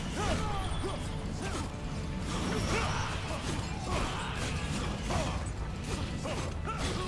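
Chain mechanism grinding and clanking in the video game Marlow Briggs and the Mask of Death, a dense continuous mechanical rattle with creaks, whooshes and impacts, while a player talks faintly over it.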